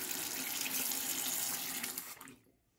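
Tap water runs steadily into a sink while a new shaving brush soaks, a broad continuous splashing rush that cuts off abruptly near the end.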